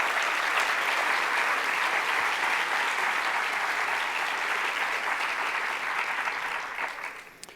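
Dense, sustained audience applause fills a hall, holding steady for several seconds before tapering off into a few last claps.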